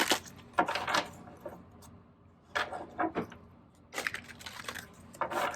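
Bursts of riffling and flapping cards, three separate shuffles spaced a second or two apart, close and crisp against a quiet room.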